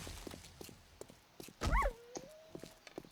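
A wolf attacks the player in 7 Days To Die, snarling and yelping in one loud, close burst over repeated footfall-like thuds, followed by a thin, fading whine.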